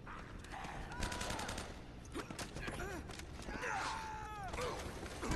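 Shotgun blasts in the video game Uncharted: Drake's Fortune, sharp repeated bursts amid busy combat noise, with voices talking over the fighting throughout.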